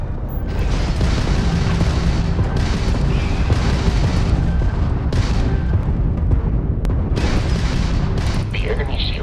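Homing missile launched during a space battle in the video game Starfield, heard as loud, dense booming blasts and rumbling weapon fire that fill the whole stretch, with a sharp burst near the end.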